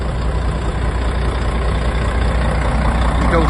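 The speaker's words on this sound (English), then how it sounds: "sounds sweet as a nut, been ticking over for ages here" A 2005 Volvo B12B coach with Jonckheere Mistral body idles steadily, a loud, close, even low diesel rumble with no change in speed and no talking.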